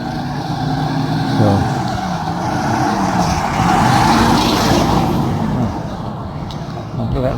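An old, worn truck engine rumbles steadily close by in Davao City, its low throb swelling louder midway before settling back to a steady idle.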